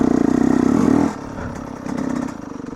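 Yamaha YZ125 two-stroke dirt bike on a soft trail, its engine buzzing loudly and close, then dropping sharply in pitch and volume as it shifts up a gear, and climbing again as it pulls in the higher gear.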